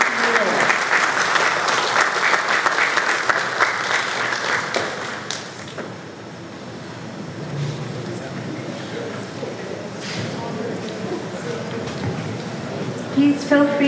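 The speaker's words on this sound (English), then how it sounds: "Let's have a final round of applause for Representative Todd, and Councilmember H" A conference audience at an annual traveling mini conference gives a final round of applause for a state representative and a councilmember. The clapping is loud and full at first, thins around midway, then carries on more softly with crowd murmur.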